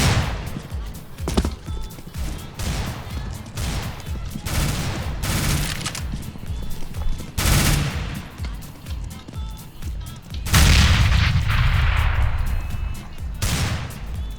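Grenade blast and rapid gunfire in a tactical shooter game, with dense overlapping bursts throughout and a heavier explosive rumble near the end, loud and continuous, with a voice calling out beneath the combat.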